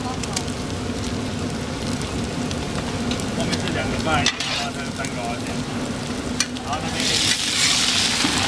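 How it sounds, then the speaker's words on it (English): Egg omelet sizzling loudly on a hot griddle at a busy Taiwanese night-market stall, with steady frying crackle and scraping clatter as two spatulas chop and scramble it, the hiss rising brighter near the end. "Using 2 spatulas, he begins to chop and scramble the massive egg sheet, creating fluffy, bite-sized curds"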